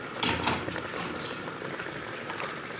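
Potatoes tossed into a pot of cooked meat land with two quick splashing thumps at the start, followed by a soft bubbling simmer that continues quietly.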